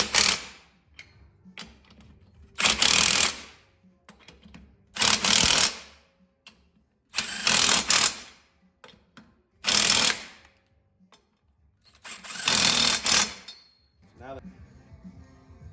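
A wrench tightens the wheel spacer bolts on a car in six loud bursts of rapid ratcheting, close up, with short quiet gaps between bursts.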